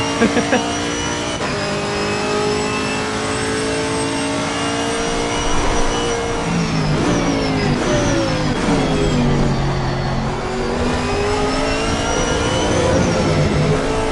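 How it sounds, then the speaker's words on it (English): A Chevrolet Camaro race car in Assetto Corsa Competizione revs loudly and continuously, its engine pitch climbing and falling through gear changes on worn tires, with someone talking over the roar. "the chat reader's getting drowned out by this engine."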